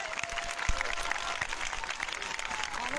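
A congregation at a revival meeting claps together, a lively burst of applause with some crowd murmur mixed in.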